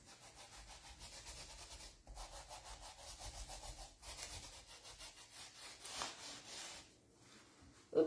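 Wet wipes rub over a decoupage sheet in a quiet, rhythmic scrubbing: repeated short back-and-forth strokes close up, with brief pauses between passes.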